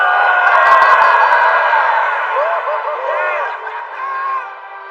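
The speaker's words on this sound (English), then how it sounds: "Listen to that thunderous applause." A sumo arena crowd erupts after a bout, loud cheering and whooping that swells at first and then slowly thins, with scattered high shouts carrying over the din.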